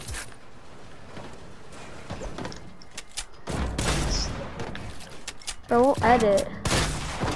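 Fortnite gunfire rattles in short loud bursts, mostly in the second half, with sporadic shots between. Voices chatter casually over the fighting.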